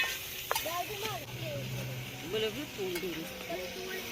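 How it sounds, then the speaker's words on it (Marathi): Onion sautéed with salt and spices for a village-style mutton dish sizzles softly and steadily in a pan, with light stirring scrapes beneath someone talking throughout. "आता टाकून घेतोय मिठामध्ये परतावून घेतोय कांदा"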